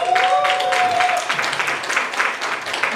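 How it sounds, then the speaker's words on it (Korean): An audience at a book concert and book launch event in Sejong gives loud, sustained applause, a thick wash of many hands clapping throughout with a brief tone near the start. "큰 박수로."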